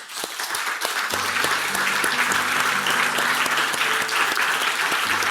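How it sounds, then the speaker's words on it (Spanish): A church congregation bursts into sustained applause after a prayer, a dense, even wash of clapping that fills the room, with a low hum of voices or music beneath it. "¿Le podemos dar un aplauso al Señor?"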